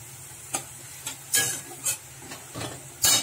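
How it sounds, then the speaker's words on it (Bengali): Chopped onion tipped into hot oil with a bay leaf, giving bursts of sizzling and stirring that come in short uneven spurts, close and moderately loud, with no talking. "এই যে একটা তেলের মধ্যে ওই একটা তেজপাতা দিয়ে দিয়েছি, দিয়ে একটু পেঁয়াজ কুচিয়ে রেখেছিলাম, পেঁয়াজটা দিয়ে দিলাম।"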